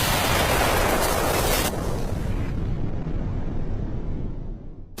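A gunshot from the anime Heavy Object lands as one loud, close, booming burst that rolls off into a fading rumble over a few seconds.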